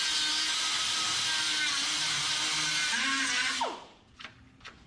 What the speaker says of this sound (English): Grind it out and try again.